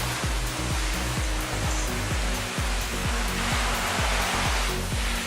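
Water rinsing acid cleaner off a truck's exterior, a loud, continuous rushing spray with a rapid repeating low pulse running under it, no voices.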